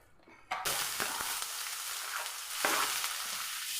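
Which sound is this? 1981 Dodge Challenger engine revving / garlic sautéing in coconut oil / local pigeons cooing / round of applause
garlic sautéing in coconut oil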